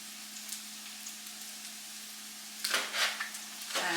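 Onion and corned beef sizzle in a frying pan, a faint steady hiss under a low hum, with a brief louder burst of frying and clatter near the end.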